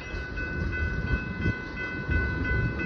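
A tanker freight train eases along at reduced speed, its cars producing a continuous heavy rumble with occasional knocks and a faint ringing metallic tone held throughout.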